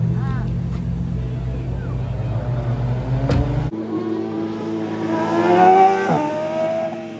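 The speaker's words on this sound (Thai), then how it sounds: "เป็นประสบการณ์ชีวิตในการนั่งรถแข่งในสนามแข่งสักครั้งหนึ่งนะครับ" A Ferrari race car on a racetrack, its loud engine drone holding steady, then cutting to a rising rev as it accelerates, heard close from inside the car with a person talking over it.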